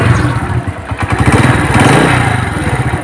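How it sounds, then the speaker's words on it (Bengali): A Runner Deluxe 80cc motorcycle with about 16,000 km on it, in good condition and started by its self-starter, runs close by with a steady, rapid single-cylinder putter that lightly rises and falls. "এখন গাড়িটির সাউন্ড শোনাবো আপনাদেরকে। Self start"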